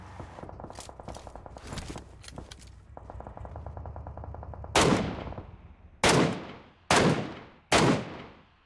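Rapid automatic gunfire from a video game, a dense rattling burst followed by four separate loud, sharp shots with decaying tails, spaced about a second apart, with no talk over them.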